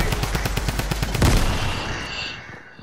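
Rapid automatic gunfire in Fortnite Battle Royale cracks in an even, quick rhythm, then a heavier impact lands and the sound fades into a decaying tail.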